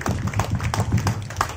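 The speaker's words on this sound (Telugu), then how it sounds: "మరి ఇద్దరు బ్రదర్లకి వీళ్ళందరికీ ఒకసారి చప్పట్లతో వందనాలు తెలియచేద్దాం" A church congregation claps after a call to thank two brothers at a special rosary mass at Infant Jesus Church, Thallacheruvu, giving a steady, close patter of hand claps that keeps going.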